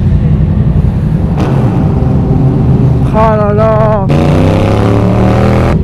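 A motorcycle engine revs hard outdoors, with loud rising and falling engine tones that climb in pitch in bursts, close by, while people talk over it.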